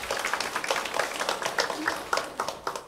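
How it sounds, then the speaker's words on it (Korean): Church congregation claps in praise to God after worship singing, a fairly soft, loosely rhythmic patter of hands with distinct individual claps, somewhat distant. "하나님께 영광의 박수 올려드리겠습니다"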